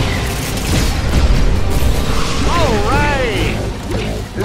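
Missile launcher blast in Cars 2 The Video Game, a loud booming crash with crunching debris, followed by a warbling electronic whine, all under a voice speaking.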